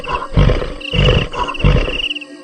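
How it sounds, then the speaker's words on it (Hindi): A monster monkey growls in an animated horror story: three deep, loud roaring pulses in quick succession, close and menacing, with no talking. "तभी वह बंदर गुर्राने लगता है।"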